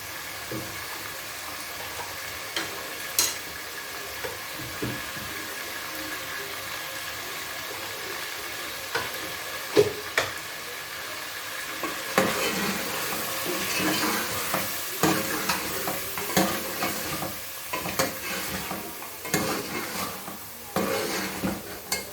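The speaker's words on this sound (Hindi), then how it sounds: "साथ साथ देखिए हमारी भिंडी भी अच्छे से फ्राई हो रही है और चिकन भी हो रहा है" Okra (bhindi) and chicken frying together in a pan with turmeric and cumin, a continuous sizzle with frequent stirring scrapes and utensil clinks growing busier in the second half.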